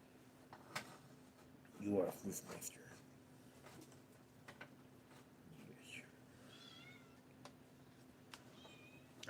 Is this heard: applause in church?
no